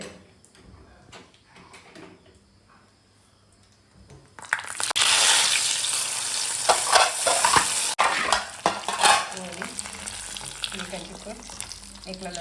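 Cumin seeds frying in a clay pot for village-style majjige huli, a sudden loud sizzle bursting in after a quiet stretch and crackling steadily with occasional stirring clatter, with no talking.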